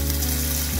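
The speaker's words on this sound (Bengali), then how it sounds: "এবার একে একে আমি সয়াবিনগুলো ছেড়ে দেব।" Soybean chunks dropped one by one into hot white oil in a wok, giving a steady close sizzle with a watery hiss throughout and no talking.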